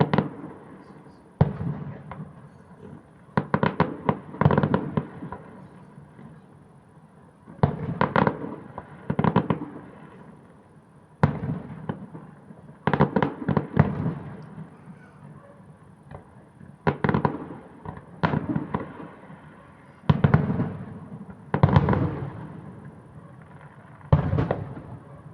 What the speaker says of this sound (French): c'est toujours aussi stylé les feux d'artifice